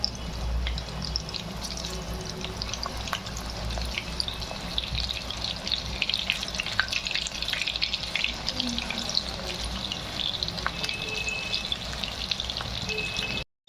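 Kalve (clam) bhaji fritters frying in hot oil, a steady dense crackle and hiss running throughout at an even level, with small sharper pops scattered over it and no talk.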